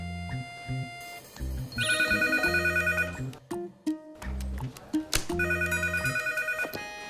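Repeated bursts of a ringing telephone, loud and close, sound over an upbeat musical background with a pause partway through before the ring resumes.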